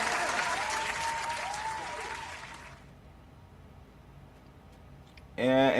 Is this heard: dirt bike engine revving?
no